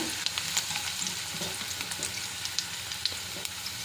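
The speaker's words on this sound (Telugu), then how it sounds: "ఇలా ఆనియన్స్ పచ్చిమిర్చి బాగా వేగాక" Onions and green chillies frying in a kadai for veg pulao, a soft steady sizzle with scattered crackles and light stirring.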